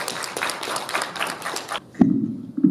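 An audience applauding a seminar speaker, a brisk round of clapping that stops abruptly partway through, followed by a few thumps and handling noises.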